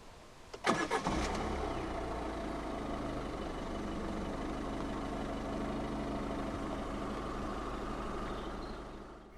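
A 2013 Peugeot 208 1.4 HDi diesel with a 5-speed manual cranks for a short moment, catches and settles into a steady, even idle that continues close by until the end.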